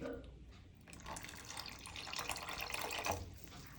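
Thick first-extract coconut milk pours into a pot of payasam with a soft, swelling splash that builds and trails off, quiet and close, with faint voices in the background.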